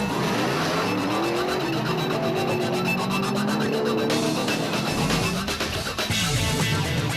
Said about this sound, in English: cars chased each other down a short section of tar before heading onto a route